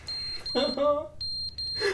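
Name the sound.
smoke detector beeping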